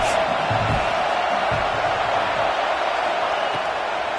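Football stadium crowd at a Miami vs Michigan game roaring steadily behind the defense on a big third down, a dense sustained wash of cheering with a few sharp thumps.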